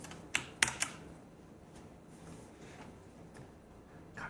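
Typing on a computer keyboard, a few sharp quiet key clicks early on followed by faint scattered taps over low background hiss, with no voices.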